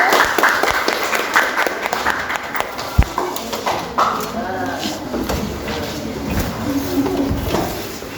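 Applause from a high-school biology class after a group presentation, scattered claps under a speaking voice, fairly near and of moderate loudness, with one sharp clap standing out.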